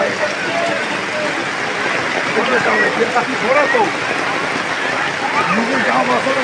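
Heavy rain pours down on a home amid flooding, a dense, steady hiss and patter filling the whole stretch while voices talk over it.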